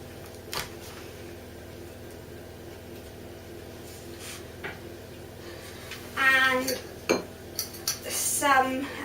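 Margarine and icing sugar being mixed for butter icing in a bowl, with scattered clinks of a utensil at first, then louder bursts of scraping and clattering against the bowl later on, under a steady low hum.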